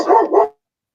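A dog gives two quick, loud barks up close, then falls silent.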